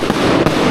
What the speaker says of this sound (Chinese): 放烟花了